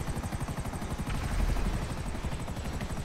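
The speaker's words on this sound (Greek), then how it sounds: "Γενικά τα ελικόπτερα της αστυνομίας." Police helicopter in a video game, its rotor beating in a steady rapid low thump with engine whine above, loud and close throughout with no talk over it.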